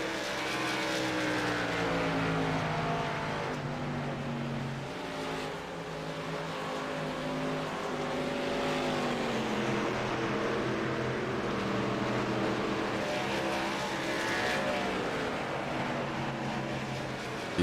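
Race cars lap a short oval track during a Coffee Cup Nitro Series night race at The Rock, engines droning continuously with rising and falling pitch as cars pass, loud and steady throughout.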